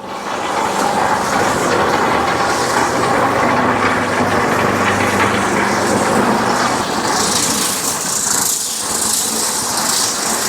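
A small concrete mixer engine idles steadily and loudly, with a continuous rattling rumble that barely changes throughout.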